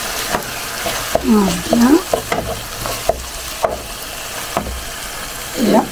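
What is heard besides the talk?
tomatoes and onions cooking in a pan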